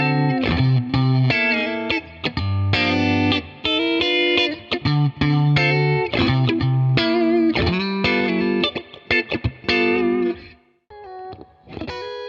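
Electric guitar played through an Origin Effects Cali76 Stacked Edition dual-stage compressor pedal, a busy run of evenly compressed, sustained notes and chords with a smooth, even level, ending in a few sparse held notes.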